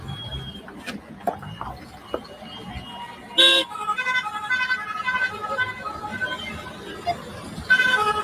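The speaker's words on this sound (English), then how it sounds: "this is exactly how the traffic is ongoing here today" Town road traffic crawling along with car horns tooting, several short honks and a longer blast mid-way, plus another horn near the end, over a steady rumble of engines and a faint voice.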